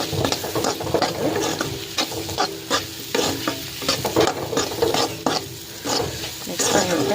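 Spoon stirring ivy gourd (kovakkai) fry in a pan, with repeated scraping strokes over a steady sizzle, close and fairly loud, no talk.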